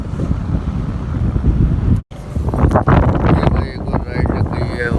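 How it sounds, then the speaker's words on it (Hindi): Strong, gusty wind at Sea View beach roars and buffets the microphone close up, cutting out for a moment before resuming, with someone talking over it. "देखो भाई सी व्यू, फुल तूफानी हवा चल रही है।"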